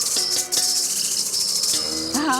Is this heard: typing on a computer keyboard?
no